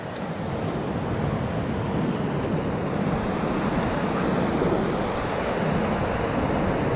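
On the Middle Ocoee River, whitewater rapids roar during a rafting trip, making a loud, dense, unbroken rush of churning water that fills the whole stretch, with no talking.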